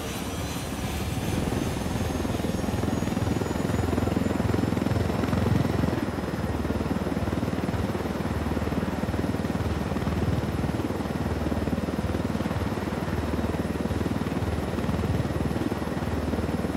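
Helicopter in the video game Ghost Recon Wildlands flying steadily, with a loud, continuous rotor and engine drone that stays close and fills the whole stretch without talk.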